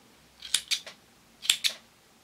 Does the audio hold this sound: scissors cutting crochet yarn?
yes